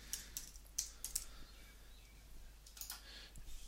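Keys tapped on a computer keyboard while entering a template name in Dreamweaver: a few faint, sparse clicks spread over a quiet stretch, no talking.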